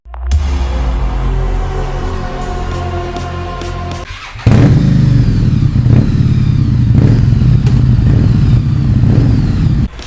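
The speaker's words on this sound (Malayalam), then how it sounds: "ഇന്ന് ഞാൻ നിങ്ങളുടെ മുന്നിൽ പ്രസൻറ്റ് ചെയ്യുന്നത് ഹാർലി ഡേവിഡ്സൺ സ്ട്രീറ്റ് 750 ആണ്." A Harley-Davidson Street 750 motorcycle, a 2019/20 model, idles with a close, steady engine note, then a sharp blip jumps into a louder, rougher, sustained rumble with faint periodic rev pulses, and no talking.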